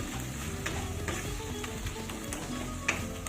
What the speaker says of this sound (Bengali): এবার দেখো রসুনের কাঁচা গন্ধটা চলে যাওয়া পর্যন্ত একটু ভেজে নেব।